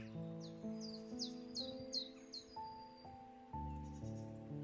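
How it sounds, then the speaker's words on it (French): Light birdsong drifts over a soft, sustained musical drone beside a clear river: a string of short, bright chirps in the first half, then quieter calls, gentle and slightly distant. "Le chant léger des oiseaux vous raccompagne."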